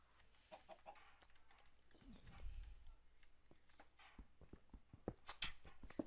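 Faint chicken clucking from the Minecraft video game, short scattered clucks mixed with clicks and game sounds, soft and distant with no talk over it.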